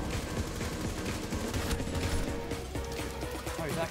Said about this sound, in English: Oh, he's actually shooting back.